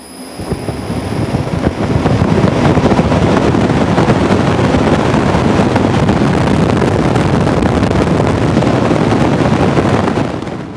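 A loud, steady roar of rushing air in a wind tunnel builds within the first two seconds and holds constant, broadband and close, before cutting off at the end.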